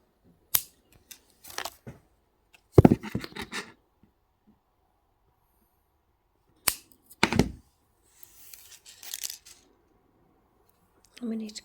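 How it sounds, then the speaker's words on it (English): Sharp wire cutters snipping thin weaving wire and heavier base wires on a handmade wire-wrap earring, giving a few crisp, close clicks spaced apart with soft rustling handling between them. "Cut the weaving wire, and then we'll cut both of these base wires."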